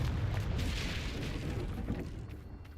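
A Confringo fire spell explodes in Hogwarts Legacy, a loud, sustained booming blast with rumbling low end that fades slightly over a few seconds.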